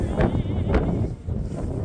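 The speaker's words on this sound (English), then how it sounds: "the way the wind is blowing the snow. It's windy." Gusty wind from a snowstorm in Canada roars and buffets the microphone in a steady low rumble, blowing snow, rising in a few stronger bursts.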